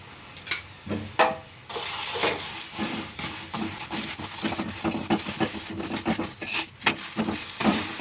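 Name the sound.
paratha frying in oil on a pan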